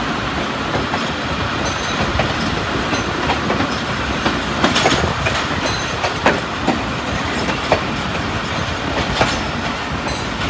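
The 246dn Malkwal Express, an early-morning passenger train running from Mandi Bahauddin to Pind Dadan Khan, rolls steadily along the rails with a loud continuous rumble and rhythmic clickety-clack of wheels from on board. No one speaks.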